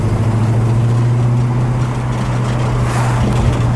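A 1969 Ford Mustang Boss 302 V8 rumbles close and loud with a steady low drone, and the pitch shifts slightly near the end.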